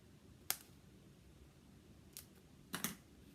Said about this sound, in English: You can take the edges here and just cut into them like so